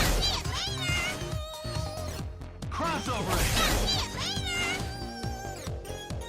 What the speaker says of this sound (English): Felicia's first assist is Rolling Slide.